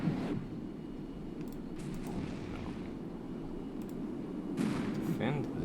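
Tanks fire at infantry in a military video game, producing distant, muffled booms over a low rumbling battlefield backdrop, with a voice talking faintly beneath.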